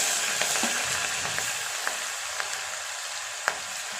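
Ginger garlic paste sizzles in a hot pan with cumin while dal fry is being cooked, a steady close frying hiss with occasional small pops and spatters throughout.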